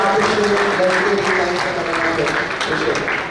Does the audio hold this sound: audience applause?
yes